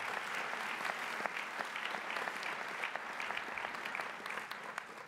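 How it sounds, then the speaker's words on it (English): Convention audience applauding in honour of the event's organiser, a steady, dense wash of many hands clapping throughout at moderate distance, with no talk over it. "how about a round of applause for Dennis and the convention that he put on?"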